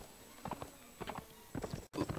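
Horse hooves clip-clopping in a steady trotting rhythm during a ride in the video game Mount&Blade, moderately close with short pauses between bursts of steps, no talk.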